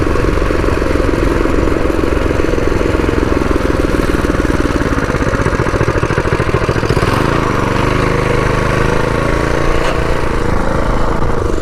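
Predator 212 engine on a homemade mini bike running steadily throughout a ride, a loud continuous small-engine drone with clattery texture and slight shifts in pitch near the end.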